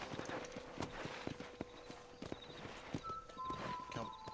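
Horse hooves clip-clop steadily in Red Dead Redemption, a quiet regular gait of hoofbeats with faint game ambience and occasional brief tones, no talking over it.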